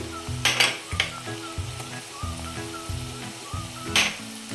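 Onion fried until red in hot oil in a home kitchen, then homemade spice masala of red chilli powder, turmeric and salt added for a dry fish and potato dish; steady close sizzling with repeated stirring scrapes and utensil clinks, no talking.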